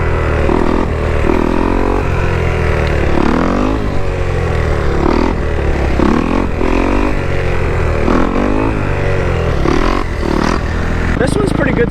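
A motorcycle engine revs up hard again and again during a wheelie, its pitch climbing in repeated surges over a constant roar of engine and wind noise.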